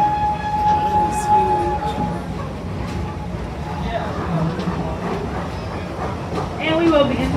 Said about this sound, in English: Montu is an inverted roller coaster